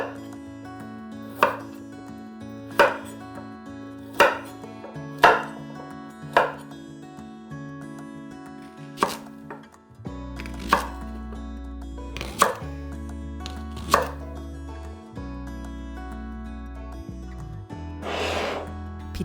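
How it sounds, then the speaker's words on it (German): Celery, carrots and leek being chopped into coarse pieces on a cutting board, a steady series of sharp knife chops spaced a second or two apart over soft background music. "Wir schneiden Sellerie, Möhren und Porree alle in grobe Stücke."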